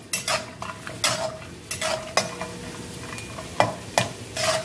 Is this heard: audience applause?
no